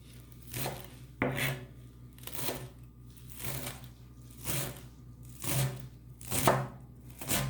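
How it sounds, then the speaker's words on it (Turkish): Parsley and dill being chopped with a knife on a board for a courgette pastry filling: steady rhythmic thuds, about seven or eight distinct close chops spread over several seconds with no talking. "Maydanoz ve dereotlarımı da doğruyorum."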